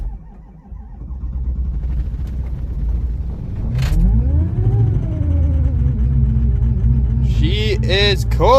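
A 6.0 diesel truck engine cranks and fires up in cold winter weather, a deep loud rumble that rises and settles into a steady idle, with a high squeal or whine entering near the end.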